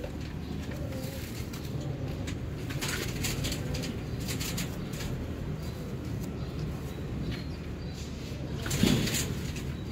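A flock of about fifteen released pigeons coos steadily in low, soft calls, with brief rustles and flutters of wings and a short louder thump near the end, with no talking.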